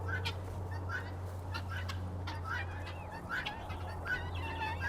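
Domestic fowl clucking and calling in a yard, a steady scatter of short, close squawks over a constant low hum.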